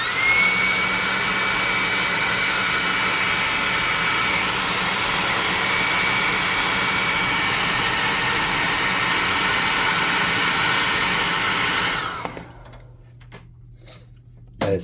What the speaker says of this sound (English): I'm going to airbrush him real quick. Or air gun him real quick.